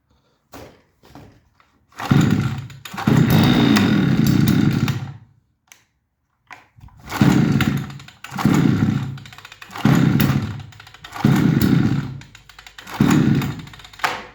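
A petrol grass trimmer engine, just repaired, catches after a short pull and roars loudly, then revs in several separate throttle bursts with brief drops between them, close and with no talk.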